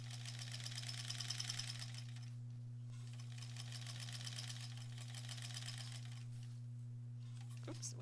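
A home sewing machine stitches binding onto a granny squares quilt, steady whirring motor hum with a fast rhythmic needle chatter, close and continuous, with a brief pause and a small click near the end.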